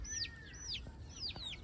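Chickens in a poultry batch give repeated high, rising clucks and calls, about four in quick succession, with faint low background noise and no talking.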